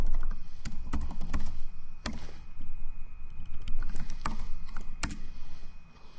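Typing on a computer keyboard while entering a command in MATLAB: scattered, irregular key clicks at close range with a steady background hum and no talking.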